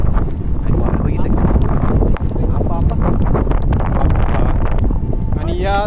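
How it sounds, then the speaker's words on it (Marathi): Strong gusting wind buffets the microphone on a misty, slippery monsoon trek up Rajdher fort near Nashik in the Satmal range, a constant loud roar with a person talking over it. "आणि वारं बघितलं"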